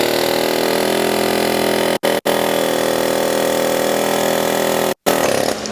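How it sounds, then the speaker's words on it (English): Loud, continuous pneumatic hammering from an air hammer driving out a pin, a rapid buzzing rattle close by, briefly pausing twice before resuming. "Take your air hammer and find the bottom of this pin."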